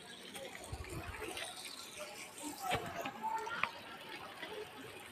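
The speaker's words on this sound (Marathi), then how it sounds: "बघा हे नळ कसे वाया चाललेले आहे" Tap water running to waste from an open municipal tap and burst pipeline, a steady splashing gush with bursts of nearby voices talking over it throughout.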